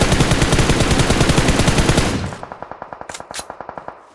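Automatic gunfire in the mobile battle-royale game PUBG Mobile: a loud, rapid burst of close shots, then a quieter, evenly spaced string of rounds with a couple of sharp high clinks.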